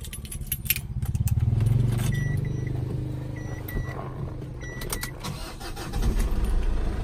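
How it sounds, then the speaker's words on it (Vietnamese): The diesel engine of a 2011 Ford Ranger cranks and catches, surging into a loud rumble, then settling into a steady idle, with a few clicks and small rattles nearby. "sau đây em sẽ lổ máy lên cho anh em xem này"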